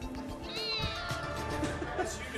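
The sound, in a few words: cat meowing, hiding in a vent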